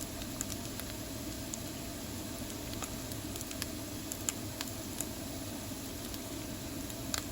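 Tofu frying in an iron skillet while cooking in a van, a steady soft sizzle with scattered small pops and spits throughout, close and even, no talking.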